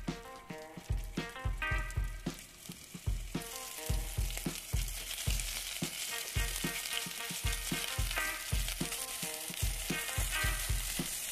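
Cheese-stuffed meatballs browning in oil in a pan, with a steady crackling sizzle and repeated soft thuds and scrapes as they are turned, close and continuous with no talking.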